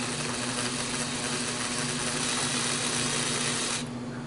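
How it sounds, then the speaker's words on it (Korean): A drill runs steadily up close while boring a hole, with a continuous motor whine and hum that cuts off abruptly near the end. "이제 구멍을 먼저 뚫어볼게요"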